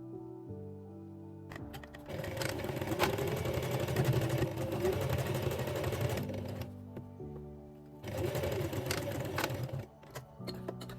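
A sewing machine stitches a dress seam joining front top to front bottom, with two sustained close runs separated by a brief pause and lighter handling sounds around them.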